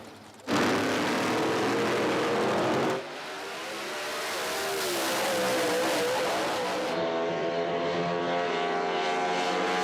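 Top Street drag racing at the NZ Nationals, a Chevy Camaro against a Charger: a roaring burst of engines as the cars launch, then a long, loud, rising engine howl down the strip.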